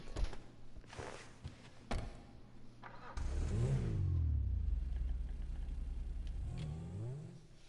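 Video game car first gives a few faint clicks and taps, then its engine bursts into loud revving that rises and falls in pitch before settling into a sustained, close growl.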